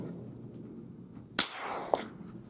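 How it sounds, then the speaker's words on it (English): A suppressed Ruger Precision rifle chambered in .22 LR fires supersonic ammunition, giving a sharp crack around the middle of the clip. A second, fainter snap follows about half a second later, and low background noise fills the rest. "Ruger precision rifle, 22 long rifle caliber with suppressor and supersonic ammo"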